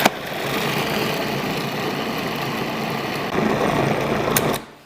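An electric chopper whirs steadily while blending a kebab mixture with bread, a continuous close motor drone that cuts off abruptly near the end with no talking.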